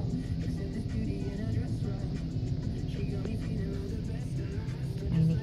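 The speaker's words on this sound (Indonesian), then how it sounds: "Nah, ini kita menunggu mobil ini yang akan belok ya. Mungkin agak sulit karena panjang sekali mobilnya." A long car-carrier truck turns slowly through a street in Chatou, France, its engine a steady low rumble that holds throughout with a slight swell near the end, with faint voices underneath.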